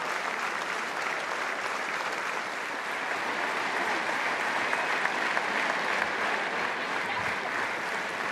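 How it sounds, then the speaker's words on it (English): Spectators at a women's Six Nations rugby match in France applaud steadily, a dense, even wash of clapping from a large stadium crowd that carries on without pause. "Nice touch, of course, from the French crowd applauding."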